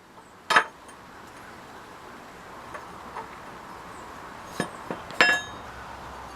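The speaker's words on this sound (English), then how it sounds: "there is a hammer and anvil to make you some flint for your flintlock" A few sharp metallic strikes of a hammer on flint against an anvil ring out, spaced irregularly with a quick double hit near the end, against a quiet background.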